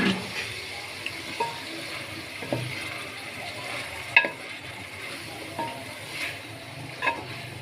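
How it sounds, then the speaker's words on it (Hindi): Boiled cauliflower is added to a pan of melted tomato masala for phool gobi sabzi, giving soft sizzling under scattered clinks and scraping stirs against the pan, fairly quiet with no talk. "अब हम इसमें ये बॉईल की हुई गोभी डाल देंगे।"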